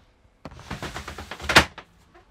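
A tambour door in a camper van build rolls shut and catches on a magnet lock, giving a rattling slide of several soft knocks that ends in one sharp clack, close by with no talk.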